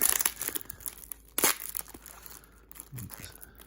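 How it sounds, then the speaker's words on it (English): Plastic bag wrapped in tape being cut and pulled open, with bursts of crinkling and tearing followed by quieter rustling handling, close up. "They really taped it up good here, so we're gonna have to cut away at this to get inside this bag."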